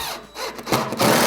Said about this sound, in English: I'm going to take our Phillips screws and our screw gun.